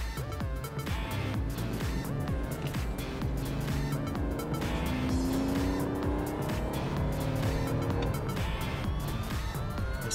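A 2001 BMW 530i with a 3-liter inline-six engine driving on the road, a steady engine hum with gently rising tones and ticking road noise, heard from inside at moderate level with no talking.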